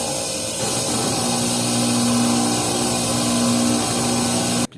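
A salvaged bench grinder motor with contact points and no capacitor runs in a steady electric hum with a sustained whining tone, holding even and loud before cutting off abruptly at the end.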